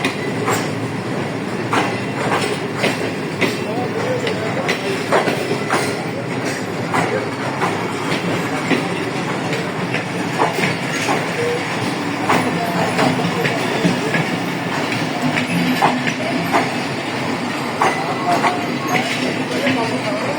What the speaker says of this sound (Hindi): पेशावर और कराची के दरमियान चलने वाली ट्रेन है वाया